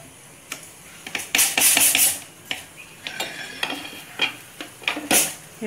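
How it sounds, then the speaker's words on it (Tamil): A spoon scrapes and clatters through ghee rice in a pot, irregular close scraping strokes with metallic clinks and a light sizzle beneath, no talking. "ஒரு கிண்டு மட்டும் இப்படி கிண்டி விட்டுடுங்க"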